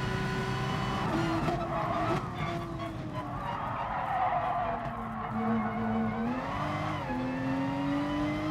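A Porsche race car in GT Sport practice lapping with a steady, rising and falling engine drone, while the tyres squeal and skid almost continuously through corners as the car understeers.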